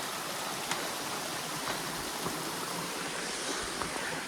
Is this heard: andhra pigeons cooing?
no